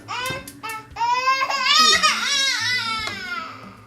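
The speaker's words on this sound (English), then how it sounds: "If you hear my baby in the background" Baby crying loudly close by, rising and falling wails with whimpering catches between.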